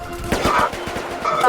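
Gunfire from people shooting: a rapid string of sharp, loud cracks fired in quick succession, like a volley, over a short burst of noisy background.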